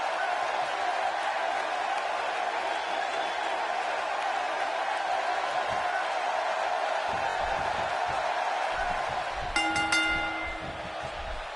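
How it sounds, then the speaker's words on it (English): A dense arena crowd roars steadily in the WWE 2K17 wrestling game, a constant wash of cheering throughout, with a brief bright tonal chime near the end. "this arena is electric. Oh, man, you can feel this crowd"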